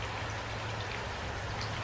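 A soft, steady hiss of rain falls continuously, even and fairly faint, with no voices.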